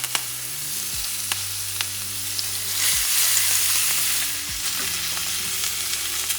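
Duck breast sizzling and frying in a pan, cooked like a steak. A steady, continuous sizzle runs throughout with a few faint clicks and low background hum, and no talking.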